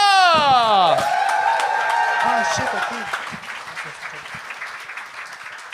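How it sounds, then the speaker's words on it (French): A comedy club crowd cheers and applauds a comedian taking the stage, loud at first and then fading. Whoops and a few voices ring out over steady clapping, and someone speaks briefly near the end. "Faites un maximum de bruit"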